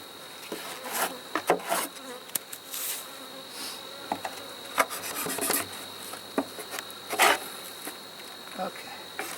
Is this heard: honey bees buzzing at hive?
yes